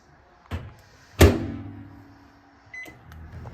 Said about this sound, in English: Now you're going to put your cookie into the microwave for exactly 1 minute.